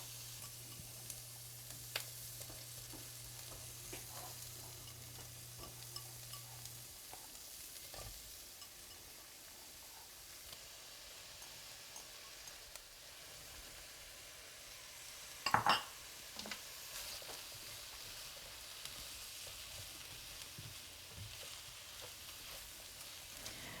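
Vegetables sautéing in a pan for a stir-fry, with a faint, steady sizzle, scattered light stirring taps and a brief clink of a utensil partway through.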